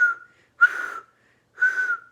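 A person whistles three clear, steady, level tones, each about half a second long, separated by short pauses. Close and alone.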